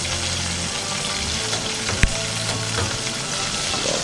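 Chicken pieces for a copycat Popeyes sandwich fry in oil that is too hot, giving a steady, dense sizzle with one sharp clack midway and no voices.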